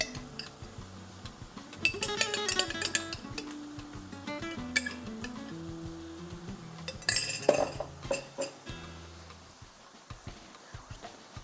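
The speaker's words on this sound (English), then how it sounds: "Stir well with a spatula so everything mixes together evenly." A spatula stirs sauce in a pot, giving scattered metallic clinks and scrapes that come in bunches, close and fairly quiet, with a tonal music bed running underneath.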